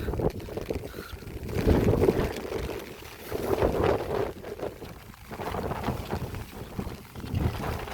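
Gusty wind buffets the microphone in rough, rumbling waves during a flood-season storm in a fishing village, with a steady wash of rain-like noise underneath, no talking.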